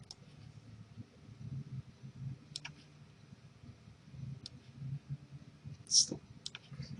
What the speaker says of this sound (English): I'm fighting with my mouse a little bit here